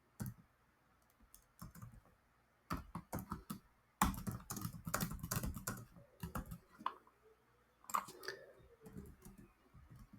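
Computer keyboard typing while writing React code, bursts of quick clicking keystrokes with short pauses, close and fairly quiet.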